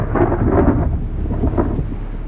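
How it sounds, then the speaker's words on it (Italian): A sudden violent thunderstorm, with deep rolling thunder over a steady roar of heavy rain, loud and continuous throughout and with no voices. "Scoppiò un temporale"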